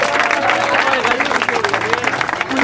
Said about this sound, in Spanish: Quiero más fuertes aplausos por la batalla